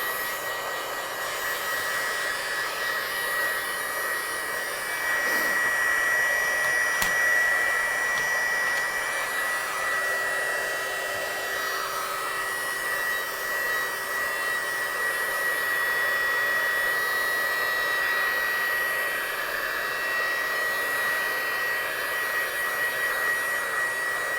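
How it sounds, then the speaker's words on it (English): A heat gun blowing on wet watercolour paint on paper, a loud, steady airy whine with a faint tonal hum, held close and nearly unchanging for over twenty seconds, no talking. "I'm just going to dry that with my gun"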